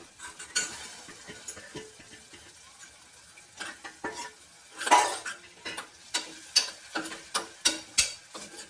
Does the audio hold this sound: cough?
no